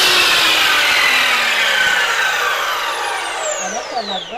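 Miter saw cutting through wood for wainscoting, a loud sustained whine and rasp that fills nearly the whole clip, then fades as the blade spins down near the end.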